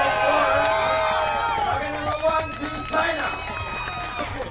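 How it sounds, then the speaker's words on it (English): Home crowd cheering in Shanghai after China takes compound men's team archery bronze over Turkey, a steady roar of voices and clapping with a commentator talking over it. "And just listen to the crowd."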